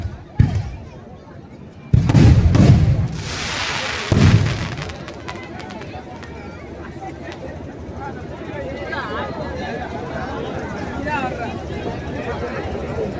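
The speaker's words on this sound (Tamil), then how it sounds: "அடுத்து வெடிக்க இருப்பது சிவகாசி இருந்து வருகின்றக்கூடிய வண்ணமிகு வானவேடிக்கை நிகழ்ச்சி" Sivakasi fireworks bursting at a temple chariot festival for Madurai Kaliamman in Thottiyam, Trichy: a few heavy booming bursts early on, then continuous crackling and popping over a noisy crowd.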